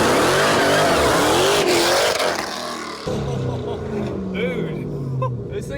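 A 1000 hp Jeep Trackhawk in track mode launches from a standstill in first gear, all four wheels spinning. A loud engine roar and tire noise fill the first couple of seconds, then ease off as voices come in.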